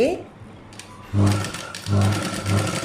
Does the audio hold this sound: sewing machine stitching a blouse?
yes